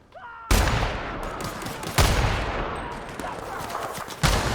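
Loud gunfire from The Outer Worlds video game, several sharp blasts at about half-second, two-second and four-second marks, each trailing into a rolling roar of shots and echo, with faint game sounds between.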